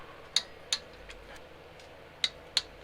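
A torque wrench gives four sharp, crisp clicks, two close pairs separated by a pause, while the flywheel bolts are tightened on a rebuilt Golf GTi 1.8 engine, over a quiet background.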